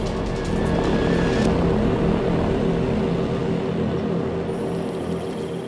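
A surveillance drone flies overhead during a covert military reconnaissance, its engine a steady, loud droning buzz that holds throughout with no talking.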